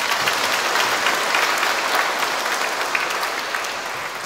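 At a First Communion Mass, the church congregation gives a long, loud, even round of clapping that tapers slightly at the close.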